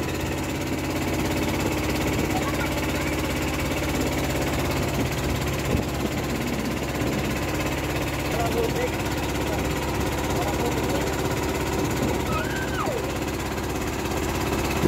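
A boat engine drones steadily at close range during a ride off Ancol Beach in Jakarta, a constant low hum with faint voices in the background.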